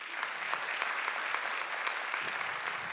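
An audience gives a round of applause, dense and continuous clapping close by that holds steady before thinning slightly at the end.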